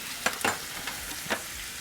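A ribeye steak sizzles in butter in a Ninja Foodi pan with rosemary sprigs and garlic, a soft steady frying hiss broken by a few brief louder crackles and spatters, no voices.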